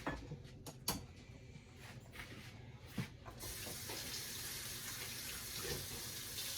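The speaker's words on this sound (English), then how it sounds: "we're just going to rinse them off, even though we are going to be peeling them" Carrots rinsed under a running kitchen tap: a few splashes and drips at first, then a steady stream of water running alone.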